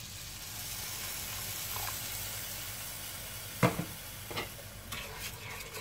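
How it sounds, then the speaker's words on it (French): Broth is poured gradually into pearl pasta in a hot pan, raising a steady frying sizzle that is punctuated by a few sharper hissing bursts as the liquid hits the pan. "Maintenant, je viens verser petit à petit le bouillon."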